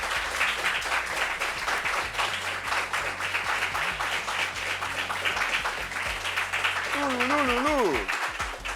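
A studio audience applauds a guest with steady, sustained clapping throughout, while a voice speaks over it near the end.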